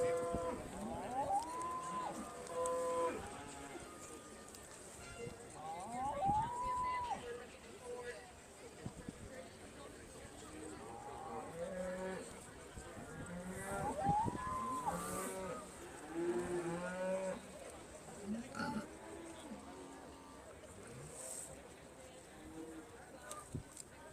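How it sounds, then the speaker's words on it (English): Black and red Aberdeen Angus cattle low repeatedly in a livestock show ring, several drawn-out moos rising over a busy crowd murmur, with a commentator talking throughout. "Very impressive ring full of black and red Aberdeen Angus cattle for this class"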